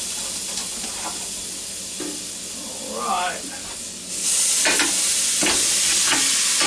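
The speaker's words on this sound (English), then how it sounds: "Listen to that sizzle." Loud hissing sizzle of St. Louis ribs on a hot Ninja Foodi grill swells up and holds steady, with a brief spoken word and some clatter beforehand.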